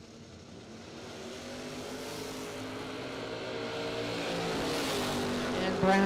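Drag race cars, one a first-generation Camaro, rumble steadily at the line and build into a rising engine roar over a few seconds, under a trackside announcer's voice.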